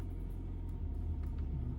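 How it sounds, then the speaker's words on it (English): A Ford Ranger pickup crawls uphill along a Michigan overlanding trail at about 2 mph in crawl control, its engine a low, steady, faint rumble with no voices. "So I decided to try the trail control on this also, and just seeing how the truck would do just crawling up it"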